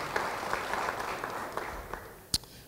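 A church congregation claps in applause during a sermon, a soft, somewhat distant wash of hand clapping with a single sharper clap near the end and no talking.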